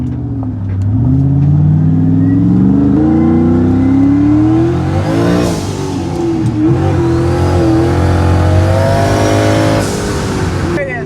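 A turbocharged Coyote-engined S197 Mustang accelerates hard, its engine note climbing steadily through the gears, loud and close, with a brief shift partway through.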